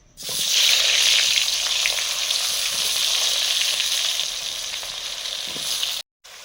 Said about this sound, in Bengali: বেগুনটা ভাজছি আগে।